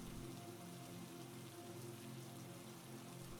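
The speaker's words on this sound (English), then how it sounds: "Tonight's session features an unbroken acoustic rainscape" Heavy rain falls in a steady, unbroken wash, a dense even hiss of drops on surfaces that stays constant and fairly quiet throughout, with no voices.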